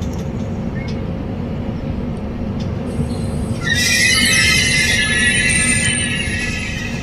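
Low steady rumble of the Devagiri Express train, then high squealing of wheels and brakes rises midway and continues as it slows to a stop, loud and close.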